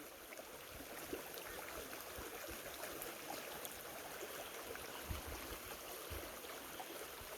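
A river runs close by in a ravine at Xecnup, Joyabaj, a steady broadband rush and hiss of flowing water that holds even throughout with no voices over it.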